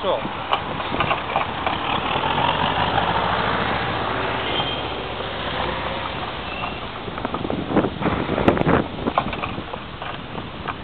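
A tractor engine chugs and idles nearby, a steady mechanical rumble under a speaking voice, with a few louder knocks near the end.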